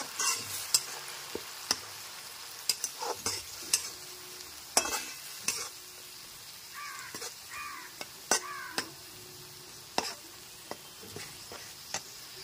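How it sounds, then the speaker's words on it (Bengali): Onion paste fries in a pan over low-to-medium gas flame, a soft steady sizzle broken by repeated sharp scrapes and clinks of stirring, with a crow cawing faintly outside. "পেঁয়াজ বাটাটা দেওয়ার পর গ্যাসের ফ্লেমটা লো টু মিডিয়ামে রেখে বেশ কিছুক্ষণ সময় নিয়ে পেঁয়াজ বাটাটা খুব ভালো মতো ভেজে নিয়েছি"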